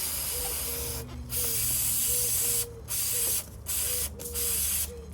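A can of WD-40 sprays onto a Suzuki Gladius motorcycle chain. It makes several short, sharp hissing bursts close by, separated by brief gaps, over a low background hum.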